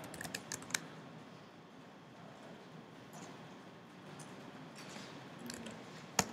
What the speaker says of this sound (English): So what we do is we type require space